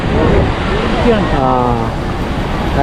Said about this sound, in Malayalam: ഈ ദ്വാന്ദ്ര വാട്ടർഫാൾസ് എന്ന് പറയുന്നത് നർമ്മദാ നദിയാണ് ഒഴുകി അങ്ങോട്ട് കലി തുള്ളി പോകുന്ന പോലെ നമുക്ക് തോന്നുന്നല്ലേ